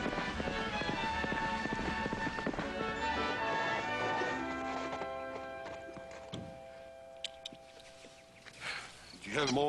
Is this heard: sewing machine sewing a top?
no